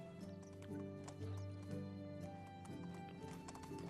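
Donkey hooves clop steadily in the medieval village game Medieval Dynasty, close and continuous over sustained tonal game music.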